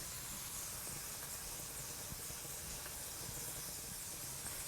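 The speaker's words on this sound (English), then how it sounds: "Gives a nice flavor to the tofu by sauteing it." Tofu sautes in a hot pan, a steady close sizzle and hiss that holds without pause, with no voices over it.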